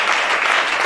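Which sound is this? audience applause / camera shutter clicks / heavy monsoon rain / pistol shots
audience applause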